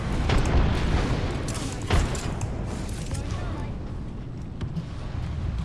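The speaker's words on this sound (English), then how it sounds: "I threw all my grenades at them." Grenade explosions in the video game Apex Legends, heard as a couple of muffled, heavy booms rising out of a dense, continuous wash of gameplay noise.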